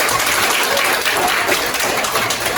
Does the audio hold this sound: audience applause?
yes